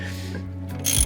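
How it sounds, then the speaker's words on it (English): A 1/2 inch drive ratchet turning a stiff brake caliper piston back in on a 3rd generation Honda Prelude, a short mechanical clicking turn that ends in a brighter, louder ratcheting burst. "afterwards I was able to use this 1/2 inch drive ratchet"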